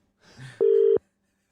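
A single steady telephone tone sounds for about half a second right after a brief breathy noise, then stops, as a phone-in radio show calls a caller back.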